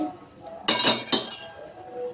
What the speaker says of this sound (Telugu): ఇప్పుడు స్టవ్ వెలిగించుకొని ఒక బాణలు పెట్టుకోవాలి